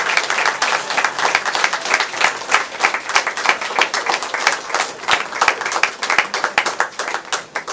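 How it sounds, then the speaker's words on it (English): Sustained applause from an audience at a chef's cooking skills day, dense rhythmic clapping of many hands heard close and steady throughout with no talking over it. "I think we need a big round of applause for Mark"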